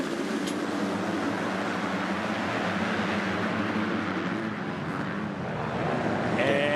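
A field of 250cc motocross bikes revs loudly at the start gate of a pro motocross race at Fox Raceway, a dense, continuous engine roar holding steady throughout with crowd and track ambience behind.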